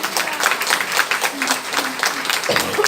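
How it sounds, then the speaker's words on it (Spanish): Church congregation applauding during a service, a few seconds of brisk, fairly dense clapping that stays even throughout, with a voice briefly heard over it. "¿Cuánto le dan un aplauso al Señor en esta mañana?"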